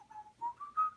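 A person whistles a short rising tune of three clear held notes, fairly close and alone, with no talking.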